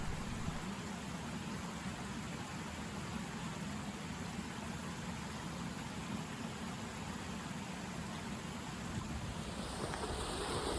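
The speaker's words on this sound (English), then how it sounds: "That's the stream that comes out of the waterfall." Stream flowing out of a waterfall in Snowdonia, a constant broad rushing wash of water that holds steady for several seconds with no voices.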